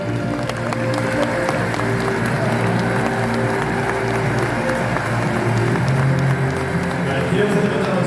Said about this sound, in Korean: 한 번 더 축하의 박수로 함께 해주십시오